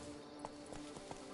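Hooves of Roach, the horse in The Witcher 3, a brief rapid clip-clop of several muffled hoof strikes at a quiet level.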